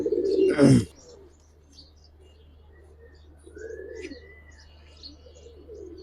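Gribaz gorra pigeons in a loft lined with grass coo in soft low murmurs after a brief loud rustling burst at the start, the calls quiet and close against a faint steady hum.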